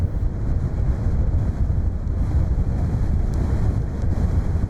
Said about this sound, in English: The trail was straightforward, but the wind was relentless.